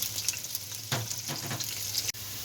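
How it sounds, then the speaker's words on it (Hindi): Onions fry in plenty of hot oil for a potato and capsicum dish, a steady crackling sizzle with a few louder bursts as they are stirred, no voices. "अब हम इसमें डालेंगे प्याज। प्याज हमारे अच्छी तरह फ्राई हो जाए।"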